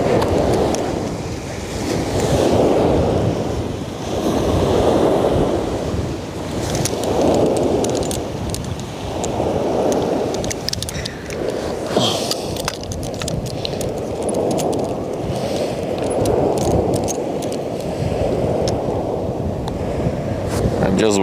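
Strong wind sweeps a stretch of the Westerschelde coast in the Netherlands, roaring and buffeting the microphone in slow swells while surf breaks close by. Voices are heard at times under the gusts.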